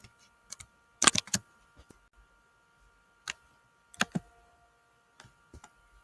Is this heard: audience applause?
no